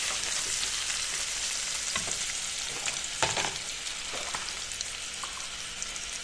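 Chopped mango and garlic being stirred in a hot pan for mango chicken curry produce a constant close sizzle, with scraping utensil strokes and small pops breaking through; no talking.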